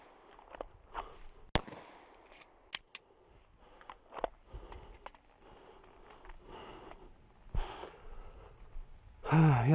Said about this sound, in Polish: Jeden strzał poszedł tutaj tylko górą.